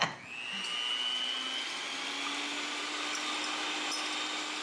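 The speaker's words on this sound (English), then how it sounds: "I am going to beat the eggs until they're creamy" An electric hand mixer beating eggs in a bowl for brownies, a steady close motor whir with a faint rising pitch after it starts, running alone without talk.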